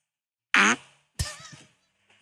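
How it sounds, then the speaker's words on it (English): Two short fart sounds, the first a buzzy, tonal blast and the second a lower, sputtering one, separated by silence. "A concerned fart."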